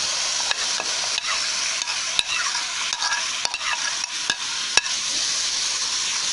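Garlic-ginger paste and grated, peeled tomatoes being sautéed in a pan, a continuous close sizzle with repeated scraping strokes of a spoon stirring through the mixture, no voices.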